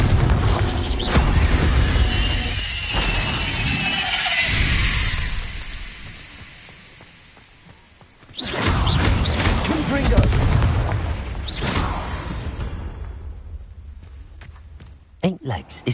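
Confringo fire-blast spell being cast in Hogwarts Legacy: loud repeated booming blasts with broad crackling bursts, a quieter lull in the middle, then a fresh series of explosions and short sharp pops near the end.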